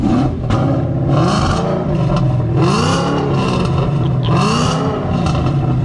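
A loud Ford Mustang engine with stock mufflers revs and roars up close, rising and falling in pitch with a rough, throaty rumble and mechanical clatter throughout.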